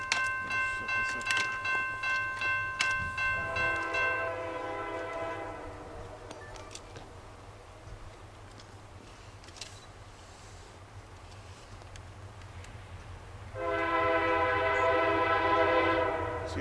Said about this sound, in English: CSX eastbound, just east of Greenwich, Ohio, in the former Conrail Indianapolis line.